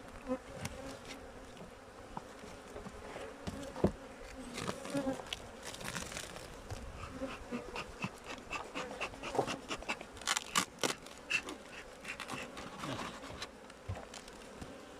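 Honey bees buzz steadily at an opened beehive during a late-season colony check, a dense close swarm drone filling the whole stretch, with occasional crinkling handling noises and no speech.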